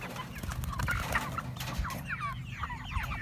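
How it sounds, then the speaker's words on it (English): Several chickens cluck and chatter together close by in a spring garden, a busy, overlapping flock sound with a steady outdoor rumble underneath. "The chickens think I'm going to feed them."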